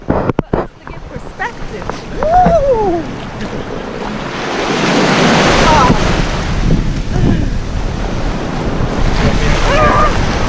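Pacific Ocean waves breaking on a Hawaii beach, a broad rushing surf that swells and stays loud, mixed with gusty wind on the microphone and brief voices early on.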